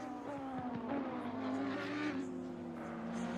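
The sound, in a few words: race car spinning out at Suzuka in a video game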